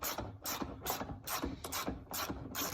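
A clunking, popping door on a 2007-2013 Toyota Tundra gives a series of sharp mechanical clicks and pops, about seven in a steady rhythm, close and fairly quiet.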